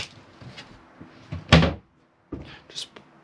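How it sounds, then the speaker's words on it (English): Kitchen cupboard doors in a Chausson Welcome 640 caravan are pushed shut onto their catches, giving several close knocks and one sharp louder clunk amid quiet handling sounds. "Just push the catches in to secure the doors before travelling."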